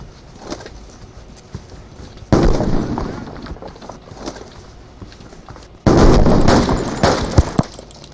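Automatic gunfire sounds in the military shooter game Army Troop, with two loud, sustained bursts of rapid shots that start abruptly, separated by quieter game ambience.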